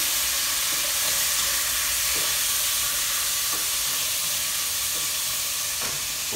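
Bacon frying in a pan sizzles in a continuous, close, even hiss with faint intermittent pops and spatters, no voices over it.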